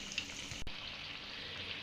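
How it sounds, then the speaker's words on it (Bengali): Chocolate pastries fry in oil over a low-medium flame, giving a soft, steady bubbling sizzle that stays quiet and close, with one faint clack partway through. "তাই একটু লো টু মিডিয়ামে রেখে এইভাবে ভেজে নেবে।"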